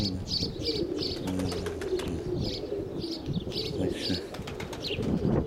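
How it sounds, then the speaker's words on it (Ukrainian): Young pigeons in a pigeon loft coo in a low, continuous murmur with scattered chirps and bursts of wing flapping, close and busy throughout. "нова голубятня спеціально для молодняка, для гона молодняка зроблена"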